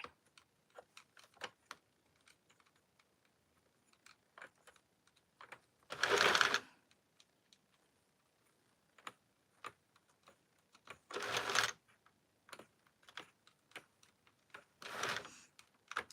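A Centro yarn knitting machine clicks and ticks in sparse, quiet taps, broken by three louder whirring passes of the carriage, each lasting about a second.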